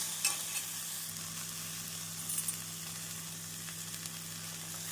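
Tomatoes, garlic, dried chillies and salt sauté in a pan for masala dosa paste, a quiet continuous sizzle with a few sharper crackles and stirring scrapes over a low steady hum.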